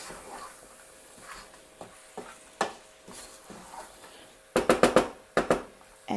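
Meat with garlic and spices is stirred in a hot pan for khatta meat, giving soft sizzling and scraping, then a burst of quick, loud spoon clacks against the pan near the end.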